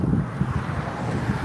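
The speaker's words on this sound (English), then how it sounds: "I hope it's not too windy back there" Wind buffets the microphone on an outdoor morning walk, a steady low rumbling roar with gusty swells, close and loud, no speech.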